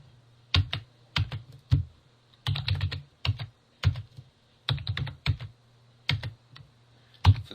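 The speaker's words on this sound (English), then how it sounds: "Alternatively, you can just use the keyboard, start typing, press Tab to go to the next field." Fingers type on a computer keyboard in quick clusters of clicks and taps. The short bursts are separated by brief pauses and sound close and fairly quiet.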